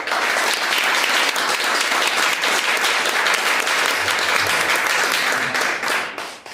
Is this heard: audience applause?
yes